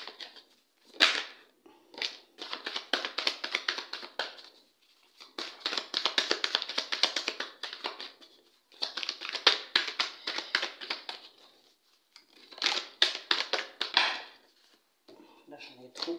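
Tarot cards being shuffled by hand, a crisp papery riffling in repeated bursts of one to two seconds separated by short pauses, close and clear with no voice.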